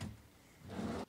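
A drawer slides open in a quiet room, a short rough scraping rush of under half a second that stops abruptly, heard close with nothing else around it.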